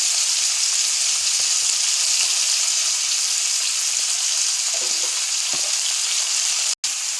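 Chopped onions frying in a pan at steady volume, a constant broadband sizzle for several seconds with a few soft stirring knocks, then a brief drop near the end, and no talking.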